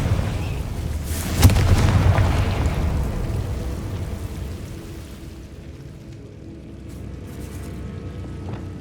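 A Confringo spell explosion in Hogwarts Legacy, a video game: one loud blast that rumbles and crackles for several seconds before it slowly fades into a quieter ambience.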